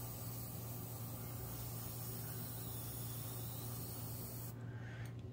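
A steady, close airbrush hiss sprays nail art color continuously, then cuts off abruptly near the end.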